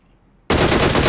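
Gunfire in the mobile game PUBG Mobile: after a half second of near silence, a loud burst of rapid automatic shots erupts and continues without pause.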